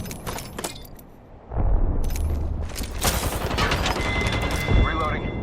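Gunfire erupts in the video game Apex Legends during a Season 8 match: a quieter stretch gives way to loud, sustained bursts of rapid automatic fire that continue to the end.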